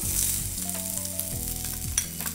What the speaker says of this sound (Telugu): ఇవి కొంచెం ట్రాన్స్పరెంట్ కలర్ వచ్చే వరకు ఫ్రై చేసుకోవాలి